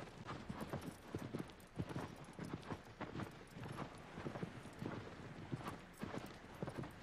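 Horse hooves clip-clop in a quick, steady galloping rhythm while riding in the video game Shadow of the Colossus, close and continuous throughout with no talk.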